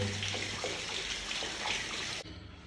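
Water flows back through the check valve of a hydrophore pressure pump, a steady close rushing hiss that cuts off abruptly near the end, leaving a softer trickle.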